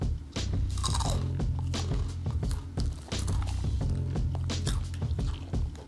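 Estrella Super Crunch sour cream and onion crisps being bitten and chewed close up, with loud repeated crunches in an uneven rhythm and no talking.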